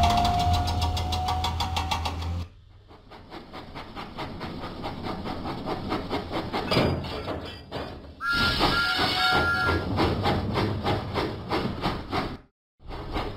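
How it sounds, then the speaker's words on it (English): Steam engine Thomas puffing along in a Thomas & Friends video game, a steady chugging engine rumble with rhythmic knocks and a brief whistle-like tone, loud and close with short gaps, no talk. "Huffing and puffing, Thomas set out for Knapford Station."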